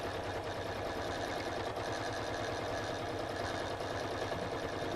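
Sewing machine running steadily through free-motion quilting, its fast needle stitching making a dense, continuous mechanical whir at an even pace throughout, with no voices.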